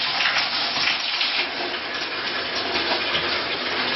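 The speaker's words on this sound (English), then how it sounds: "I'm filling up the wastebasket with water," Water gushes steadily from a hotel bathroom tap into a wastebasket, a loud, continuous rushing splash that holds constant throughout.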